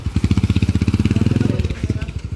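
A motorcycle converted to a 200cc pushrod engine runs nearby, a loud, rapid thumping idle with a steady beat that briefly rises and then settles. A voice talks faintly underneath.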